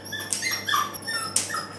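A dog whimpers and yips in short high bursts during a nail trim, restless and close, with no talking over it.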